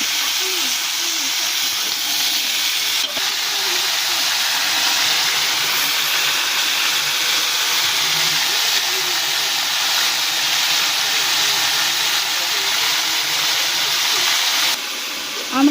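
Mixed vegetables frying over low heat in a kadai for an ilish fish-head and pui shak dish, a continuous broad hiss and sizzle filling the clip with occasional soft stirring scrapes underneath.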